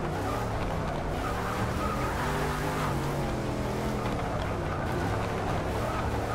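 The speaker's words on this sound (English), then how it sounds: "This car is so fast." A Hot Wheels Boneshaker races in Forza 6, its engine droning loudly and continuously with shifting pitch and tire noise, without speech.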